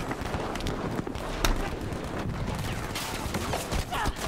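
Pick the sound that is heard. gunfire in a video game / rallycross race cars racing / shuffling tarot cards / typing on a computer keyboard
gunfire in a video game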